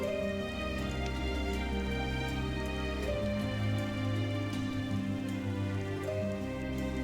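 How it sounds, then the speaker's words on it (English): Steady rain pattering in the video game Another Eden, a soft continuous wash beneath layered game music with sustained tones throughout. "And it started raining."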